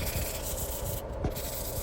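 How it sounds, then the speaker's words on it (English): 400-grit sandpaper rubs back and forth against a Bersa Thunder 380 pistol, scratching off silver paint in quick, close scratchy strokes, with no voices. "We start sanding, scratching off all that silver paint"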